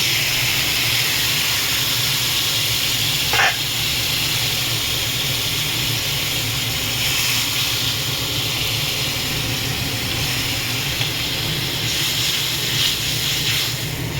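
Water coming to a boil in a pan after the spice masala has been sautéed, for a Bengali fish curry; a steady, close, broadband hiss and rumble of bubbling continues throughout, with no talk.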